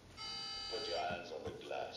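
Alarm sounding in the Call of Duty Black Ops 6 video game: a steady buzzing tone with stacked harmonics runs throughout, partly under overlapping speech.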